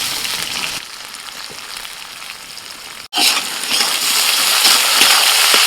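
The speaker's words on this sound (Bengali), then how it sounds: "চিনিটা তেলের মধ্যে যেই গলে যাবে সাথে সাথে আমি পেঁয়াজ কুচি দিয়ে দেবো" Chopped onion drops into hot oil with melted sugar, setting off a loud, steady sizzling hiss that grows and continues, following a quieter sizzle before the onion goes in.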